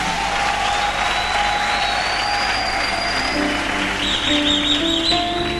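A church congregation applauding and cheering during a French-language sermon, dense sustained clapping mixed with high whistles and shouts, loud and continuous.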